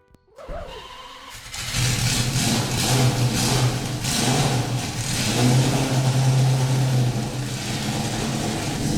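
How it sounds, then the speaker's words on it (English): Car engine starting up inside a dealership in the Driving Empire racing game: a brief crank, then a loud, steady engine note that swells and holds with slight rises in pitch, alone without talk. "here is the startup inside the dealership"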